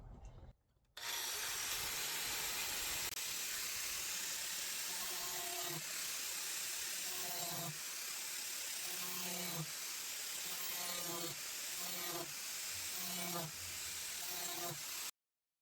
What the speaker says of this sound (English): I'm gonna cut this hole out